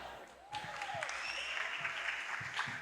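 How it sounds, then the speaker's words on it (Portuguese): An audience at a panel talk breaks into steady clapping partway through, with whoops and a rising cheer over it, moderately loud. "uma salva de palmas para eles"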